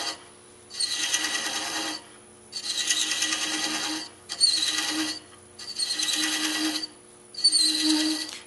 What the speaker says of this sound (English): And I'll continue chasing the threads.